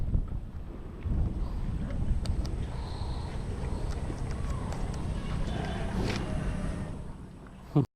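Strong gusty wind roars and buffets the microphone almost throughout, a steady low rumble that drops away abruptly at the very end.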